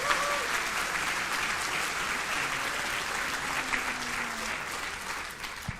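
Big cheer and sustained applause from a conference audience greeting the Indie Live team at the back of the hall, a dense steady wash of clapping heard at a moderate distance throughout.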